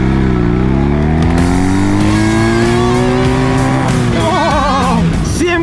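Ural motorcycle engine revving hard toward its limiter, a loud steady climbing whine of rising pitch that holds near the top, then wavers and bounces as it hits the cutoff.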